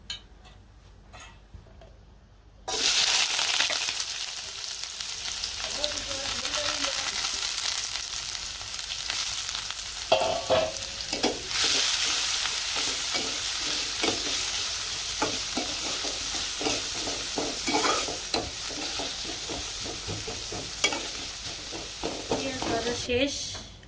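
Eggs frying in oil in a pan for egg bhuna, with a steady loud sizzle and crackle broken by repeated scraping and stirring strokes, close up and with no talking.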